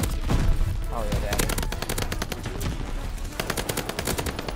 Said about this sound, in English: I will be showcasing probably one of the best SMGs in this game, the H4 Blixen